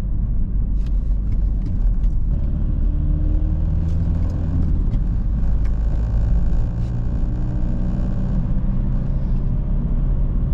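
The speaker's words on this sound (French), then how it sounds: "Vous excuserez de temps à autre les bruits de vibration, mais la bagnole accuse son âge." An aging car rumbles and vibrates steadily as it drives, a dense low engine drone filling the cabin throughout with occasional faint rattles on top and no talking.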